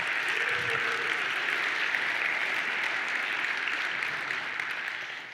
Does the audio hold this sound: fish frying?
no